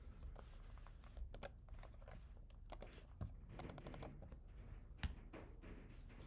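Keys clatter on a computer keyboard in quick, irregular bursts of close taps, with a few louder strokes such as backspace presses, heard alone at low volume.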